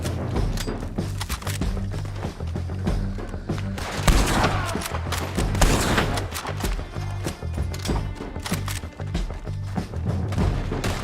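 Rapid bursts of gunfire ring out in Red Dead Redemption 2, with repeated sharp shots and a heavy boom around the middle, all layered over continuous game music and ambience.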